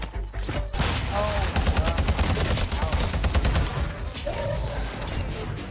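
Rapid bursts of automatic gunfire from the Warzone 2 video game mix with impacts and mechanical clatter, loud and dense throughout, with a player's voice briefly underneath.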